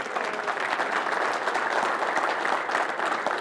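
Audience applause at the opening of the TST Big Event 2018, a dense, steady clapping from a crowd that holds evenly loud throughout, with no one speaking over it.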